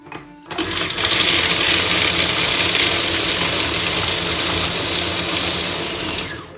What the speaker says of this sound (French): Donc on va continuer à mixer.